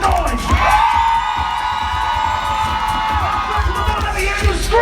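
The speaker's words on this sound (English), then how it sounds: "Let me hear you guys make some noise." A New York TV talk show studio audience cheers, whoops and shouts together in a loud, sustained roar of mixed voices that stays steady throughout.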